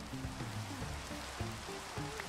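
Steady rain falling in a Minecraft-style block-building game, a continuous soft hiss of drops on surfaces with a few faint low tones underneath, no talking.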